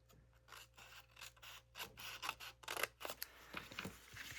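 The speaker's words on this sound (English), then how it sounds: "So I'm just going to cut the 2-inch piece in up to the score line." Scissors cut into cardstock paper up to a score line, a quiet close run of crisp snips and rasping slices, several in quick succession with short pauses between.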